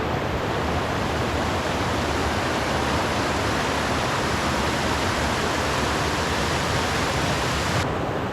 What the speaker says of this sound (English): These are the cascades that I came across last week.